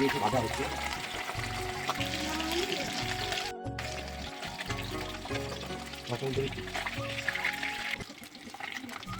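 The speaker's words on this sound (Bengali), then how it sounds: "সাদা তেল দিলাম কড়াতে" Vegetable oil goes into a kadai to cook fish, giving a soft liquid pour and faint sizzle in a busy kitchen, with talking over the top.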